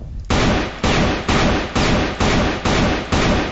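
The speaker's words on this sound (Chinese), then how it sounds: "大家仔细的听下这枪声" Single shots from an AK-47 rifle come as a steady run of about seven loud, close bangs, roughly half a second apart, with each report ringing briefly into the next. No one talks.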